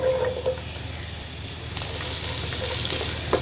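Chopped onions fry in about half a cup of ghee in a kadai, making a continuous close sizzling hiss with no talk over it.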